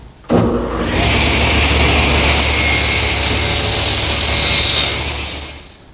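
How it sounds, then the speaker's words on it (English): A table saw rips wood pieces to width, its blade cutting in one steady, loud, continuous pass that starts abruptly and fades at the end. "I can rip them much more accurately"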